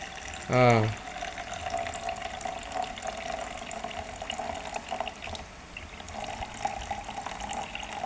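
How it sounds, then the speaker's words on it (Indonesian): Water poured into a container to test a cheap home flood alarm, a steady close trickle and splash running throughout, with a brief voice speaking near the start. "Kita isi dulu air seolah-olah ini banjir."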